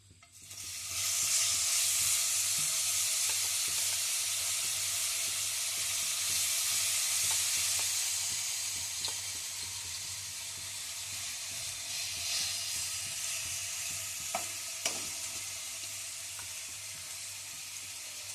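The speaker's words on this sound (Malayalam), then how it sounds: "ഇനി നമുക്ക് ചിക്കൻ ഫ്രൈ ചെയ്തെടുക്കാം." Chicken pieces sizzle steadily in a little sunflower oil in a hot pan, the loud hiss rising at the start and easing slightly later, with occasional scrapes and clicks of stirring.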